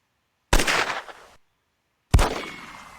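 Two sharp gunshot blasts from infantry fire in the Close Combat World War II tactics game, loud and separate, each with a short decaying echo tail and silence between them.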